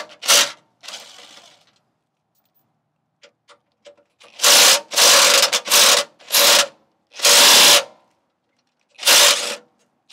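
Screws being removed from the front cover of a Toyota 4Runner, heard as a string of short, close scraping and rubbing bursts with brief ticks in between and no voices.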